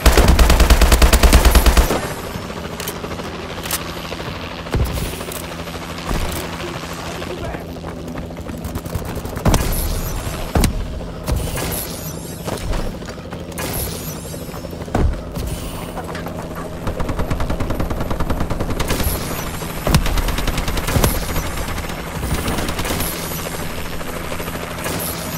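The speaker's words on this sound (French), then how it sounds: "Drone d'assaut allié en approche." An allied assault drone in Call of Duty Advanced Warfare fires loud, sustained bursts of rapid machine-gun fire over a constant rotor-like engine drone, with sharp individual shots cracking through for the whole stretch.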